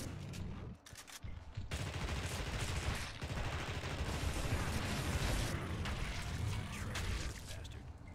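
Gunfire in the PS2 video game The Thing: sustained rapid automatic shooting, dense and continuous after a brief opening burst, loud and close with no talk.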